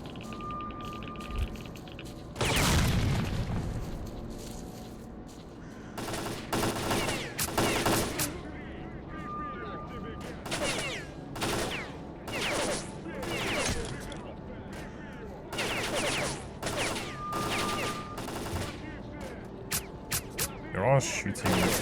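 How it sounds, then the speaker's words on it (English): Enemy gunfire in STALKER: Clear Sky, with repeated bursts of automatic fire and single shots that come in uneven clusters, some close and loud and others more distant, along with occasional mechanical clicks. "They're all shooting me through cover."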